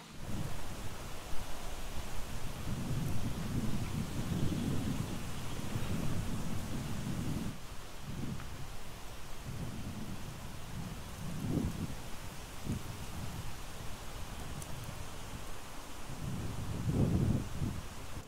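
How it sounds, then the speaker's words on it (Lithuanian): Steady rain falls outdoors in an open garden, with a soft continuous hiss and repeated low rumbles of thunder swelling and fading, and no voices. "truputį čia mus jau gazdina lietus"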